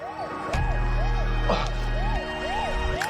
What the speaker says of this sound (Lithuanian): Greitoji atvažiuoja.